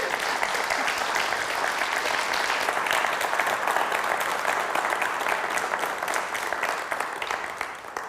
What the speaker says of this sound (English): Can we get one more round of applause for everybody up here?